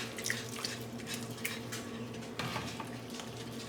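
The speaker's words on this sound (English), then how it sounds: "now I'm gonna slowly add in our pasta water" Pasta water is poured slowly into a sauce pan of whisked sauce on the stove, giving a soft, steady trickle and sizzle with a few faint utensil clinks against a constant background hum.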